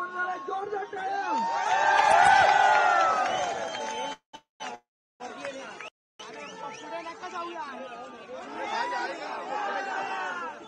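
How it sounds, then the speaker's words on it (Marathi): A crowd at a workers' protest over a language row cheers and shouts in a dense wash of many voices. The noise swells, breaks off briefly, then rises again. "जोरदार टाळ्या."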